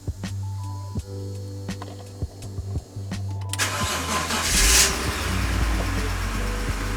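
A BMW E46 engine cranks and fires for the first time after assembly, with short mechanical clicks and hums giving way to a loud catch and steady running idle, close by with no talk.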